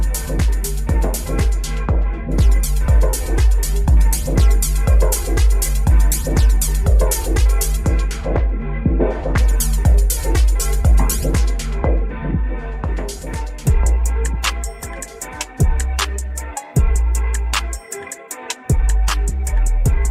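Thumping techno with a steady kick, shifting abruptly in the last seconds as a DJ transition cuts one track into another with choppy, stuttering beats.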